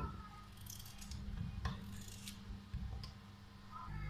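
A knife cuts potatoes, peppers, tomatoes and onions into pieces for roast chicken with vegetables, giving a few faint, soft cutting sounds over a low, steady room hum.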